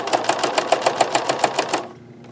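Sewing machine stitching a label onto a denim notebook cover, a steady run of about a dozen rapid rhythmic needle strokes, close and clear, stopping abruptly near the end into quiet room tone.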